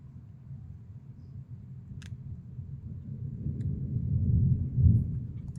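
Distant thunder from an electrical storm in Lorraine rumbles low and steady, swelling louder toward the end, with a few faint clicks and no talk over it.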